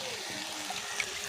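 Water is poured into a pan while cooking dried fish in a home kitchen, a soft, faint splashing trickle that runs briefly with a small splash partway through.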